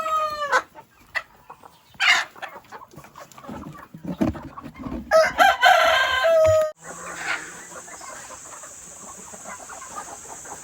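Hens cluck close by on a farm while a rooster crows loudly partway through, followed by a steady high electronic-like whine and continued clucking.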